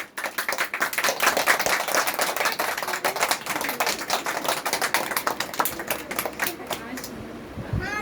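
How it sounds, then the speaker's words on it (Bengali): Children and mothers at a Mother's Day celebration at an art school clap their hands together in a fast, dense burst of applause that stays close and loud before fading out near the end. "হাততালি দাও সবাই।"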